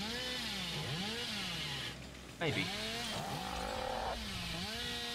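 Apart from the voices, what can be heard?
Hillbilly's chainsaw revving in Dead by Daylight video game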